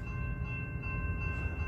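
A CSX westbound freight train carrying work equipment on flat cars approaches near a crossing in Plymouth, Michigan, a low steady rumble with a faint sustained horn-like tone at a distance.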